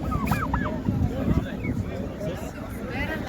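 Turkeys gobble and cluck amid a crowd of people talking at a livestock market in Karshi, Uzbekistan, with several sharp bird calls near the start over the busy market din.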